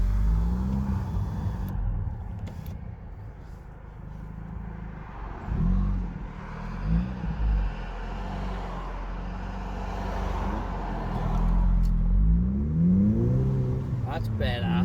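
A Mk5 Volkswagen Golf driving with the window down, its engine a steady low drone rising and falling with throttle, with rushing road and wind noise around it and a voice speaking briefly over it.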